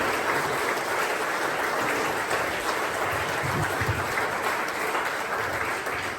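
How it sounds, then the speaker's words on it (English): At a golf tournament dinner, a room full of guests gives sponsors and volunteers a big, continuous round of applause that stays loud and dense for several seconds. "So let's just give them a big round of applause."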